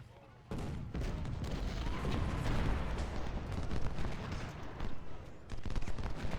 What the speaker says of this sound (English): He's just sitting there shooting people.